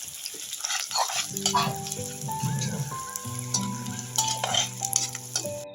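Chopped onions hitting hot oil with panch phoron spices in a home kitchen, giving a steady close sizzle and crackle with scraping stirs, while faint background music tones carry on underneath.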